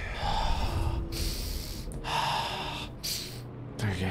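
Heavy, rhythmic breathing from a character in the Star Wars Jedi: Survivor video game, with loud gasping inhales and exhales repeating about every second, close and alone.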